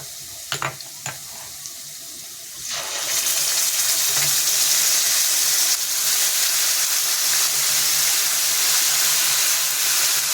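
Potatoes frying in hot oil in a home kitchen: a few faint taps at first, then a loud, steady broadband sizzle that bursts in and holds unbroken to the end, with no voices.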